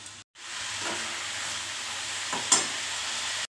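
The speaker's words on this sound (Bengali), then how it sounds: "একটু নাড়িয়ে চাড়িয়ে চাপা দিয়ে দেবো।" A spiced dish fries in a pan, with a continuous close sizzle and hiss broken by a couple of stirring scrapes and a brief clink, and no talking.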